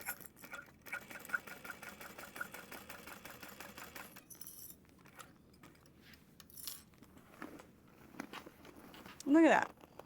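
A sewing machine stitches a medium-sized tote bag with a steady, quiet mechanical whir close by, followed by a brief louder clunk near the end.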